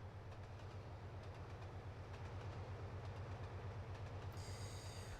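Train driving in Trainz Simulator 2, a steady low engine rumble with rhythmic rail clicking underneath, quiet and continuous with no talking.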